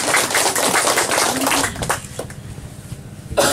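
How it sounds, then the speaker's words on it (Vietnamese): A room of people, patients included, at a Catholic priest's gathering breaks into dense, sustained clapping that fades after about two seconds, leaving sparse scattered claps before a brief loud burst at the end. "Chúng ta cho tràng pháo tay."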